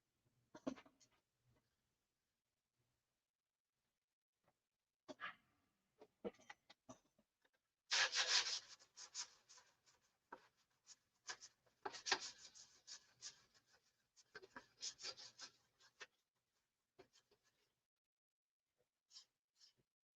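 Sandpaper swiped over a painted surface to take it down to the clear coat, heard as bursts of dry scratchy rubbing strokes separated by pauses, close and fairly quiet, with no talk.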